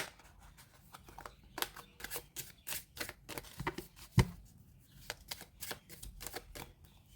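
Tarot cards handled during a reading, with a series of soft, uneven riffling and snapping flicks as the deck is shuffled and cards are pulled, close and fairly quiet.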